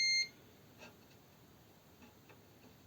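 A multimeter continuity tester gives one short, loud electronic beep while probing a Linksys PAP2 board during a reboot-loop repair, followed by faint clicks and quiet room noise.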